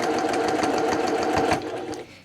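Sewing machine running steadily as it stitches along the side of a two-layer fabric bowl cozy across a dart, a continuous close rapid whir that slows and fades near the end.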